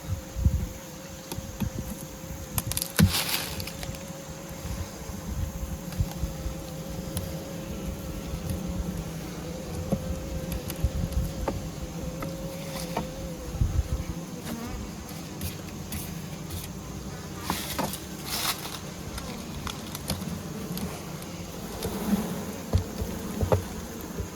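Honey bees droning steadily around a hive during a honey harvest, a continuous close buzz with occasional louder passes near the listener.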